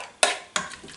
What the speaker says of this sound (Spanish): Removemos bien.